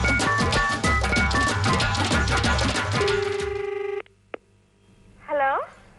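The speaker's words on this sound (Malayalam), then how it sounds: "എന്തായാലും നമുക്ക് സാബു വർഗീസിനെ ഒന്ന് വിളിച്ചു നോക്കാം." A landline telephone call being placed on a Malayalam television show, with music and background chatter giving way to a dial tone, a short beep, and then a brief ring or answering voice near the end.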